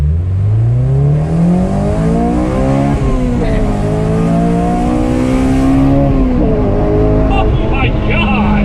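Honda Civic Si FA5 engine fitted with a Skunk2 cold air intake revs steadily, pitch climbing and falling in smooth sweeps, loud and close throughout, with voices talking over it.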